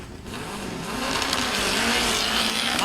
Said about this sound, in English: Miles Penn out of the hole hard in the fuel injected car